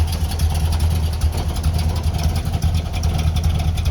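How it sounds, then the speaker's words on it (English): A 1968 Pontiac GTO with a 400 cubic inch V8 and Quadrajet four-barrel carburetor idling, a steady low rumbling burble with a slightly uneven pulse, close and continuous. "Car sounds great, holds a really nice idle, it fires up easily"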